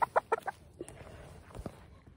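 Chicken clucking close by, with four quick, sharp clucks in a row followed by softer scattered sounds.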